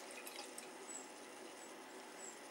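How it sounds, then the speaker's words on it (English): Homebrewed barley wine poured fairly aggressively from a bottle into a Duvel tulip glass, a steady continuous liquid splash and fizz running alone for the whole stretch. "A little bit an aggressive pour. Doing it in a Duvel tulip glass."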